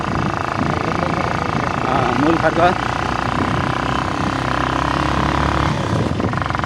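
A motorcycle engine drones steadily and strains as it climbs, with someone talking over the continuous engine noise.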